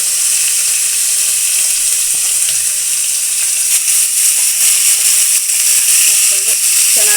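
Steady loud sizzling of onions frying in hot oil with garlic for a sambar tempering, a constant hiss with faint stirring clicks near the end.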